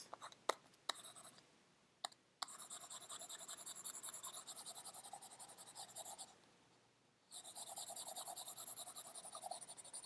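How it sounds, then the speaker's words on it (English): Marks being erased from a writing surface in a Grade 7 math lesson, with quick scratchy rubbing strokes, a few taps, then long sustained back-and-forth rasping with a short pause, close and quiet. "So I'm just going to erase this."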